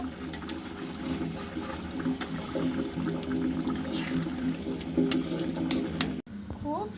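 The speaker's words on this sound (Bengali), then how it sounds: "এখন পানি দিয়ে দিব" Water pours into a pot of chicken bhuna curry in a home kitchen, a steady close splashing and trickling wash that runs nearly seven seconds before cutting off abruptly near the end.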